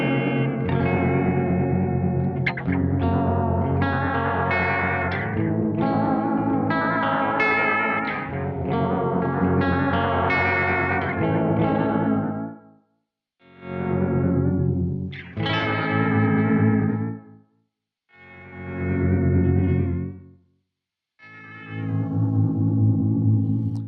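Electric guitar through a NUX Duotime delay pedal on its filter setting, giving a thick, swirling, effected tone with echoing repeats; loud sustained phrases break into separate swelling bursts toward the end, with no talking.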